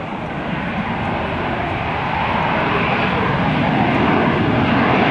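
An AV-8B Harrier II jet makes a rolling vertical landing at the 2007 Dayton airshow, a broad, loud jet roar that builds steadily and stays heavy from start to finish.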